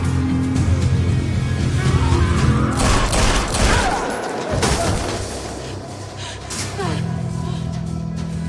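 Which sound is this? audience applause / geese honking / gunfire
gunfire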